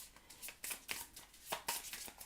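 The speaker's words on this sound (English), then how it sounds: "you can see me doing the shuffle" Tarot cards being shuffled by hand in a series of quick riffling bursts, with crisp papery flutters repeating close to the microphone and no talking.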